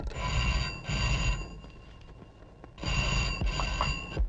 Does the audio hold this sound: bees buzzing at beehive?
no